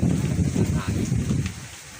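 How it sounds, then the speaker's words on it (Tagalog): Strong gusty wind roaring against the microphone, rising and falling in loud low-frequency bursts. "Lakas ng hangin eh."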